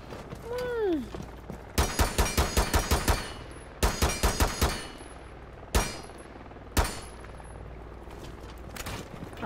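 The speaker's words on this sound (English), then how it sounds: "I was shooting your gun." Gunfire in the video game Rainbow Six Siege: bursts of rapid automatic shots in short volleys followed by single loud shots, with some faint voices and game sounds between.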